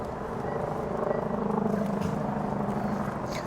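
Heavy highway traffic makes a steady, broad roar of passing vehicles, a continuous engine and tyre rumble heard from nearby with no gaps.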